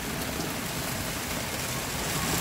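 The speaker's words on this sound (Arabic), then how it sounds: "أمطار غزيرة" Heavy monsoon rain falling in Jazan, Saudi Arabia, during a summer downpour near Abu Arish, a dense continuous hiss of rainfall holding steady throughout with no voices.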